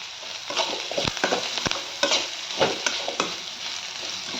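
Bitter gourd fries in hot oil in a pan, a continuous crackling sizzle broken by several sharp scrapes and knocks of a stirring spoon against the pan.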